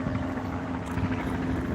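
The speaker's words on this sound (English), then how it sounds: "There's more helicopters. That's probably a news chopper up there." Helicopter overhead, a news chopper alongside military aircraft, heard as a steady loud rotor rumble with a broadband whoosh across the whole short stretch and no talking.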